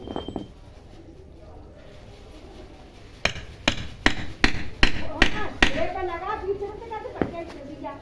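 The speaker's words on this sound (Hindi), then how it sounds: "2 छेनी है। हथौड़ा नहीं है जिसके लिए मुझे इसका यूज़ करना पड़ेगा।" A wood chisel is struck repeatedly against a wooden block with no hammer, giving about eight sharp, loud knocks in an uneven rhythm after a quiet stretch, then scraping and splitting sounds as the wood begins to crack.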